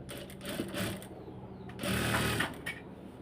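A sewing machine stitches piping onto a kameez sleeve in short, rapid whirring bursts, its motor and needle chattering close by, with brief pauses between runs.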